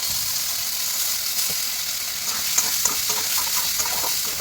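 Ginger, green chilli and cumin paste goes into potatoes frying in a pan, bringing a steady, loud, close sizzle and a crackling hiss, with light stirring sounds throughout.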